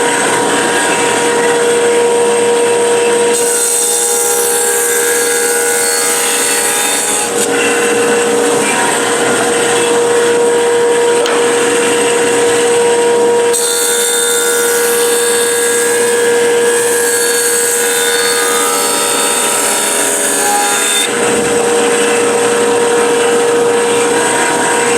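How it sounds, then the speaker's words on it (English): Power planer running loud and steady on rough lumber for a guitar neck, with a constant high whine broken by brief drops as passes start and end, no speech. "I get my one side planed down nice and flat and perfect"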